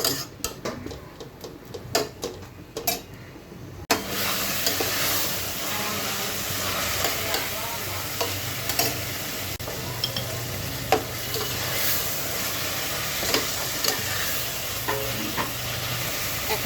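River fish head frying in a pan for a basket-style curry, with a steady close sizzle after a quieter start and a few stirring scrapes and ticks on top.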